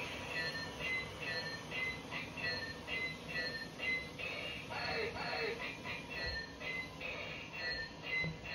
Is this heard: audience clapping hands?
no